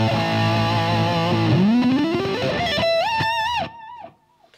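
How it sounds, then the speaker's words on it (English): Electric guitar played through a Boss DS-2 Turbo Distortion pedal, loud sustained distorted chords with a pitch bend and vibrato-laden bends, then cutting off abruptly into a short decaying tail. "I think it has a bit too much distortion going on now, and it's a bit mushy"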